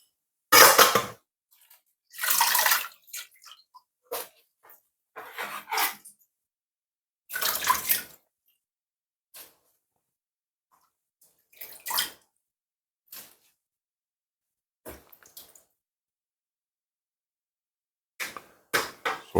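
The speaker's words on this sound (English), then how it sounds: "I'm just giving it a bit of wash. Make sure you wash them off." Salad vegetables washed under running water: intermittent splashing bursts of tap water and handling, separated by quiet gaps, close and moderately loud, with occasional drips and knocks.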